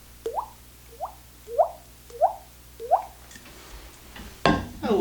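A voice imitates water dripping into a flower pot: five bright, watery plops spaced about half a second apart, close and clear, followed by a louder knock at the end.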